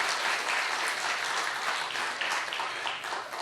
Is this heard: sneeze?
no